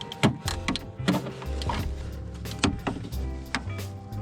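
Plastic grille clips on an Audi TT being reached through and pushed down, giving several sharp close clicks and snaps amid rustling handling noise, with a low mechanical hum underneath.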